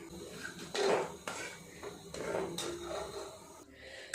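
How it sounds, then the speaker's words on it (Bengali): A hot pressure cooker holding chicken and vegetables is opened, giving close metallic scrapes and clanks of the lid and pot in a few short bursts, with no talking. "এবার প্রেসার কুকারটা খুলে দেখব"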